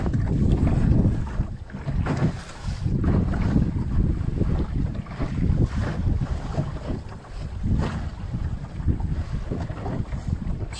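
Wind buffets the microphone aboard a Mirror dinghy sailing out of Shoreham Harbour into the open English Channel, a loud continuous rumble with gusting swells and water movement beneath, no voices.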